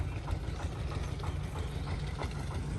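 A boat engine idles and chugs with a low, steady rumble on Kaptai Lake near Rangamati, continuous and fairly close.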